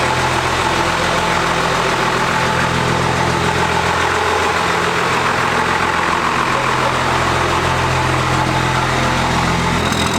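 A modified 12-valve Cummins diesel engine idles loudly, steadily and evenly for the whole stretch, a constant low rumble with no pauses.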